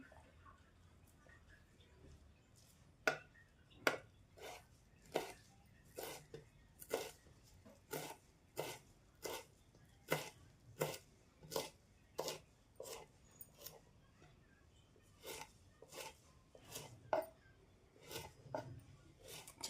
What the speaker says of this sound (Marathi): कोथंबीर चिरून घेणार थोडीशी